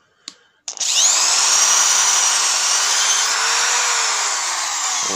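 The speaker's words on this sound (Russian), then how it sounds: "Теперь мы берем вот такое вот сверло шаговое. Сверлим дырочку." A step drill bit bores a hole through a plastic bottle cap, a loud steady high-pitched whine that runs continuously after a brief initial touch, close up with no talking.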